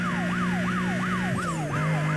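Police car siren in the video game Need for Speed Most Wanted, a loud wailing tone sweeping up and down in quick regular cycles over a steady engine drone.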